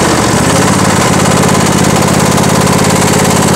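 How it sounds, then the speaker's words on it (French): A small petrol engine with good compression runs steadily and loudly up close, a dense, constant buzzing drone that holds without change for the whole stretch. "Il y a une bonne compression ce moteur."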